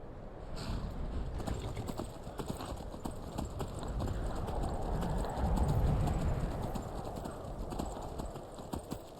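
Horses in the Skyrim video game clip-clop along in a steady rhythmic walk, hooves thudding moderately near and fairly quiet, with no talk over them.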